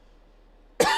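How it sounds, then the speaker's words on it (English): A single loud, abrupt cough bursts out close to the microphone at the very end, after near-silence. "My apologies for the cough."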